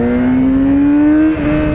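A 2016 Yamaha R6 sport motorcycle engine revving hard, a loud, high rising whine climbing steadily through about ten thousand RPM before briefly dropping off.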